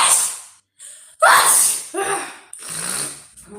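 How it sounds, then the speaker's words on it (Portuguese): Someone with rhinitis has a sneezing fit: several loud, close sneezes in quick succession, separated by sharp gasping breaths, with no speech. "Tu tá espirrando?"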